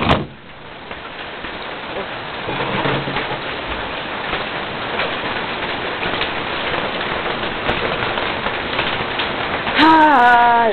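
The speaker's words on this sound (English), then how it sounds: "Sweet, the thunderstorm." Steady rain patters on surfaces throughout a thunderstorm, a constant wash of drops with pigeons or doves cooing faintly in the background and a brighter bird call near the end; no distinct thunder clap stands out.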